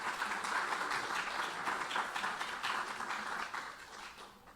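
An audience claps steadily after a speaker is introduced at an academic event on the circular economy, a dense, even patter of many hands that holds for several seconds and then tapers off.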